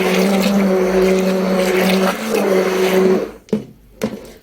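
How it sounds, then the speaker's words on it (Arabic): A hand mixer blending tomatoes whirs loudly with a steady motorized hum for about three seconds, then cuts off, followed by a couple of sharp knocks. "هضربها بالهاند ميكسر."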